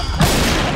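Rapid pistol gunfire bursts close up in the video game Point Blank, a dense, sharp crackle filling under a second.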